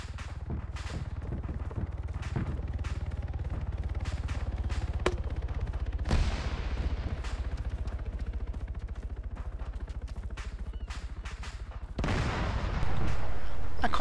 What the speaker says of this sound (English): I'm gonna put a grenade into that smoking husk just to be sure.